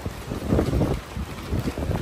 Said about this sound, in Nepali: यो एरियामा चाहिँ वाइल्ड चल्छ हावा चाहिँ